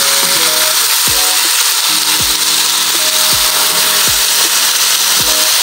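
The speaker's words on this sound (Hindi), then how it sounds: "ये 2 मिनट तेज़ आंच पे मैं प्याज फ्राई कर लूँ" Finely chopped onions frying in hot oil over a high flame, a loud continuous sizzle throughout with faint tonal clinks underneath and no talk.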